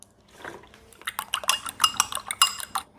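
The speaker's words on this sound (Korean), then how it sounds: "에그워시 해주겠습니다. 계란 하나에 우유 1개 큰 스푼 정도 넣어줍니다." Egg and a spoonful of milk whisked together in a bowl for an egg wash, with quick clinking strokes of a utensil against the bowl in a fast irregular rhythm, close and clear.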